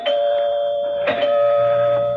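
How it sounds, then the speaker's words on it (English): A doorbell sound effect from a radio drama rings out loud and close, two clear chime strikes about a second apart with the tone lingering between them. "Finally, the doorbell rang."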